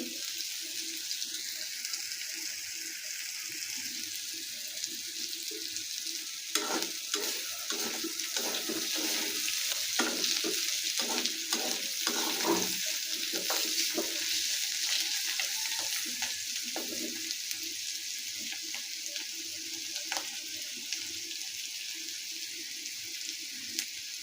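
New potatoes fried together with meat in a pan, giving a steady broadband sizzle with scattered stirring scrapes and bubbling bursts throughout, close and fairly soft, without any talking.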